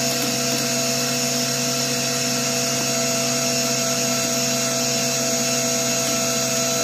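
A welder's wire feeder pushes flux core wire out through the stinger, giving a steady motorized whir with a constant tonal hum throughout, loud and close, no talking.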